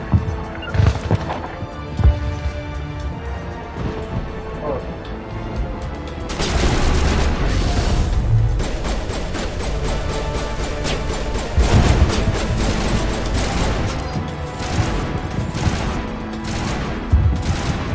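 Assault rifle fire in Mass Effect 1 comes in loud, rapid bursts with sharp cracks and heavy impacts, dense in the middle stretch and sparser toward the end.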